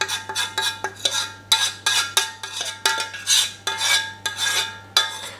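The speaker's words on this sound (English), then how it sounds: "now all we're going to do is mix this in with our dry ingredients" Spoon clinks and scrapes against a mixing bowl as a wet mixture is stirred into dry ingredients for Anzac biscuits, close and rhythmic, with repeated bright knocks in steady strokes and no talking.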